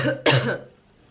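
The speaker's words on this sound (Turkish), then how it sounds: "arada böyle öksürmeler olabilir" A single sharp cough, close and fairly loud, follows a brief voiced sound and then fades into quiet.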